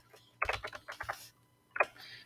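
Someone types a username on a computer keyboard, a few quick bursts of close key clicks separated by a pause.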